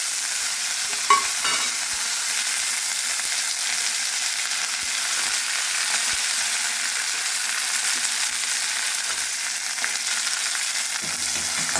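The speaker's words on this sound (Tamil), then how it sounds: "நல்லா பொரியட்டும். இப்போ நல்லா பொரிஞ்சிடுத்து." Semiya vermicelli and other ingredients frying in a pan give a steady, even sizzle from start to finish, with faint stirring scrapes near the beginning.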